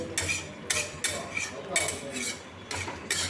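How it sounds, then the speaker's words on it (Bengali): Potatoes and onions with Kashmiri chilli stirred in a pan, with rhythmic metal spatula scrapes and clanks repeating roughly every half second over a faint background sizzle, close up. "কাশ্মীরি লঙ্কা দিয়ে আলু পেঁয়াজ ভালো করে সব একসাথে মিশিয়ে নিয়ে আর একটু ভালো করে নেড়ে ঝেড়ে নিচ্ছি"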